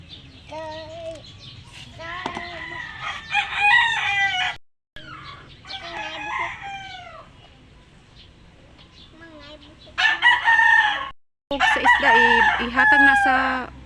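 A rooster crows several times, loud and close, with clucking hens and short gaps of near silence between calls.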